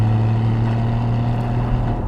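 Porsche Cayman 981 GT4 flat-six engine under way on a public road, a loud, steady low drone with a strong constant hum and broadband road and wind roar, continuous throughout with no speech.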